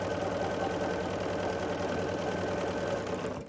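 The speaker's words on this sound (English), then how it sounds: "We're going to sew on this diagonal here." A sewing machine stitches a Windmill Star quilt block along a diagonal line, producing a steady, rapid mechanical whirring and rattle that is close and loud and stops at the end.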